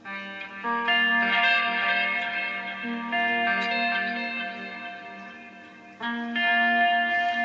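Sustained electric guitar chords through an Axe-Fx II preset, drenched in heavy, echoing reverb, ring out in a wide, spacious wash, with a fresh strum near the end.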